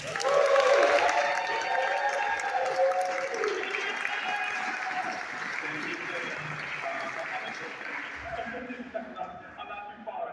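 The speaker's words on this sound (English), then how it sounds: "Can you give it a round of applause for Jabari Bisport?" Audience applause and cheering at a Democratic Socialists rally in Albany, a crowd clapping steadily across the whole stretch with voices and whoops mixed in and talk carrying over it.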